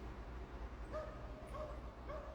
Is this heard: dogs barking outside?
yes